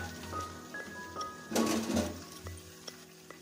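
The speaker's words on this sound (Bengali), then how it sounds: "কেটে রাখা সমস্ত লাউয়ের টুকরোগুলো কড়াইয়ের উপর যোগ করে দিলাম।" Bottle gourd pieces stir-frying in a wok for lau chingri: a soft sizzle with stirring scrapes and a few utensil clinks, rising to a louder burst of frying midway.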